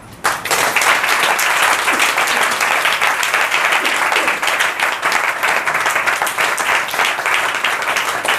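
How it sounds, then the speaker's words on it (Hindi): A church congregation claps loudly and continuously, applause swelling in just after the start and holding steady as a full, close crowd. "प्रभु के लिए ताली बजाएं।"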